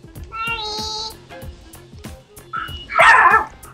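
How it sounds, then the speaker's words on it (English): A small dog yaps in short sharp barks at close range, several in quick succession, with a voice and other household talk mixed in. "Little dog."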